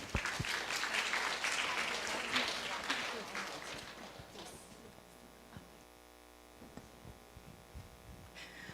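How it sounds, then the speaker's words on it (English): An audience at a women's sustainability science symposium claps loudly for a few seconds, then the applause thins into scattered claps and fades over a low mains hum in the hall. "please give big applause"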